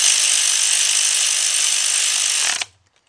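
Cordless ratchet tightening bolts during head gasket work on a Nissan engine: a loud, steady high-pitched motor whine held for over two seconds, then abruptly stopping into near silence.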